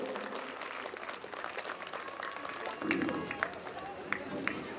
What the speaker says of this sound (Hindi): तालियां इतनी जोर से बजाओ कि हमारे इस नौजवान कलाकारों को जोश आ जाए।